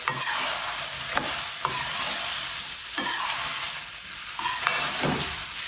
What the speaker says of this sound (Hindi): यहाँ पे आलू ऐड करेंगे बिस्मिल्लाहिर्रहमानिर्रहीम इनको मिक्स करेंगे